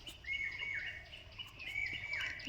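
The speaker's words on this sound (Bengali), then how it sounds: "পাখির ডাকগুলো শোনো।" Birds call and chirp in a garden of winter flowers and marigolds on a cool morning, faint repeated high chirps over a quiet background.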